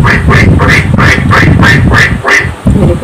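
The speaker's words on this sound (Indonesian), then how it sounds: "Ya, itu bebek." A duck quacks loudly and repeatedly, seven or so harsh quacks in a steady rhythm, close by with no talking.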